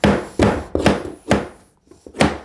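A hammer taps a wood flooring board into place during a floor installation. Five sharp, close knocks land in an uneven rhythm, with a short pause before the last blow.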